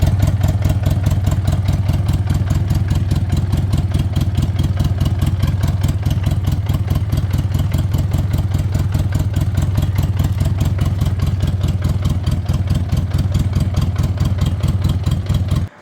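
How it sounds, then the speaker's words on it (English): A motorcycle engine runs steadily at idle after being started, a loud, close, even rhythmic chug that holds without revving for the whole stretch. "you guys heard the bike runs"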